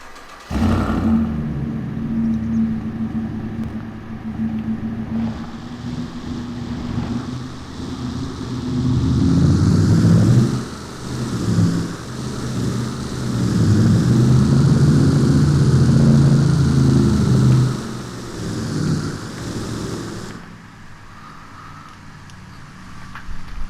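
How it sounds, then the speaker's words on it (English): A video game pickup truck engine in Farming Simulator 22 cranks and starts, idles, then revs up hard several times before settling and shutting off near the end. "Well, that's the sound of the truck."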